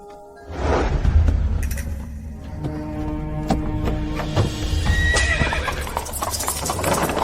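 A horse neighs loudly and close while hooves clip-clop in a steady rhythm beneath it throughout.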